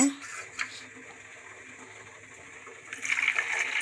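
A thin, steady stream of hot water pours into a container, rising in pitch toward the end as it fills, with a brief clink at the start.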